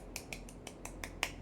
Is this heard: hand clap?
yes